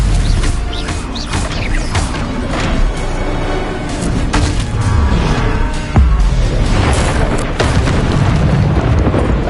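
The Bombarda blasting spell detonates in the video game Hogwarts Legacy, a loud booming explosion with crashing debris. Rumbling impacts follow in a dense, continuous wash.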